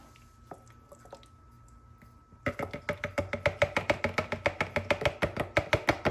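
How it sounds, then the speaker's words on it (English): Thick blended basil is poured from a blender into a bowl, making a run of rapid wet, squelchy glops and drips after a quiet start, close and fairly soft, with no voices. "I'm gonna pour this into this bowl"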